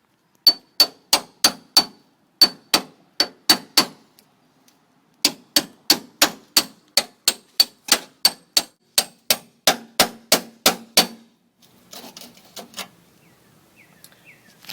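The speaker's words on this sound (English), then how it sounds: "use a seam buster to go ahead and separate that" A seam buster is hammered into the roof panel seam of a 1966 Ford Mustang under restoration: loud, ringing metallic strikes in steady rapid runs, a short pause, then another long burst, ending with softer scraping.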